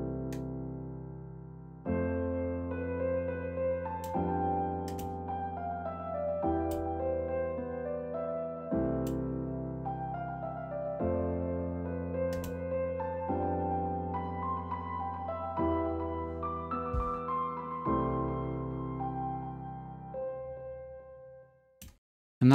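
A piano in FL Studio run through a delay effect with the low end cut, playing sustained chords and melody steadily and moderately loud for about twenty seconds, then fading out.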